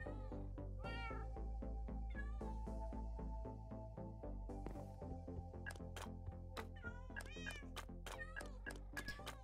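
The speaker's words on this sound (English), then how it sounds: "he's so similar to the Minecraft cat sounds" Minecraft cat meowing again and again, a series of clear, close, tonal meows with short gaps between them, loud and standing alone.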